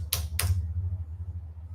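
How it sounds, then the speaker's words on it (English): The enter key on a computer keyboard is pressed twice in quick succession, two crisp close clacks followed by a low background hum. "You can hear me pressing enter on my keyboard"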